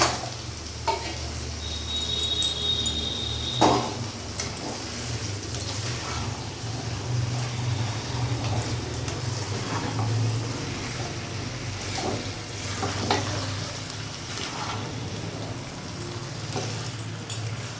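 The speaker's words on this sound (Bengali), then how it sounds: "এরপরে এখানে ম্যারিনেট করা আমি মাটনটা পুরোটা দিয়ে দেবো" Marinated mutton goes into a hot pan with chopped tomato and sizzles steadily and close for the whole stretch, with a few faint clinks of stirring.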